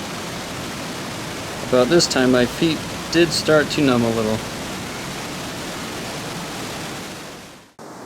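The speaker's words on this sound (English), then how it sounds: "This is the bottom of the falls." Broadband rush of the waterfall at the bottom of Zapata Falls, a steady wash of falling water running throughout, with someone talking over it partway through.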